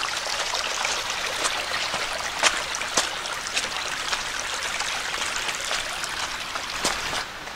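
A small rain-fed stream flows steadily down a hiking trail nearby, its continuous babble broken by occasional sharper drips and splashes over several seconds.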